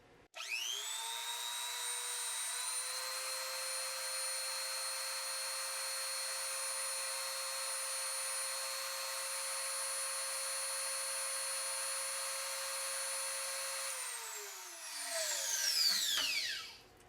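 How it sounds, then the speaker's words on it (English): A Teccpo rotary tool runs at its 35,000 RPM maximum, a high steady whine with sharp harmonic tones that spins up fast, holds level for about fourteen seconds, then winds down with a falling pitch and rattle. "now let's check out the Teccpo and see how it does. Again, maxed out"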